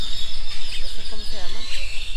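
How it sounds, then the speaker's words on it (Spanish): Small birds sing in the early morning at Quezaltepeque, thin chirps and whistles rising over a steady wash of background noise. "oigan esa bulla gente los pajaritos como, como cantan ya en la mañana"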